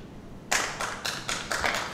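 An audience at a football federation's general assembly breaks into applause mid-speech: after a quiet half second, loud crowd clapping starts abruptly and continues in uneven swelling waves to the end.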